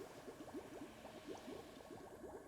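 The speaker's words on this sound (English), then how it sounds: "Put the water in." Water poured into a cooking pot at a mountain campsite in the climbing game Cairn, heard as a soft, steady run of bubbly liquid gurgles, faint and alone.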